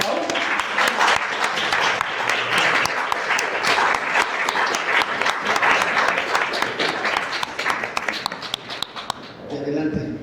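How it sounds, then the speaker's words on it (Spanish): Audience applause at a comics event talk, dense and sustained clapping from a crowd filling the room, continuing steadily before tapering off at the end. "pues ahora sí que un gran aplauso a Deri y a Pau."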